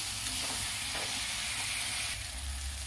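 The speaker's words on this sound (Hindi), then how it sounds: "ये भुना जाएगा 1 मिनट" Chicken curry masala fries in a pan with a loud, steady sizzle and hiss that stays constant throughout, with no talking.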